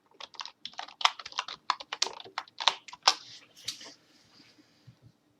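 Rapid, irregular clatter of keys on a computer keyboard as a password is typed, close and crisp, with a brief pause in the middle before tapering off into a few faint final strokes.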